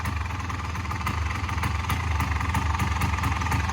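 A 1985 Honda ATC250R three-wheeler's two-stroke engine runs close by, idling with a rapid pulsing beat and then rising in loudness as the throttle opens, with no talking.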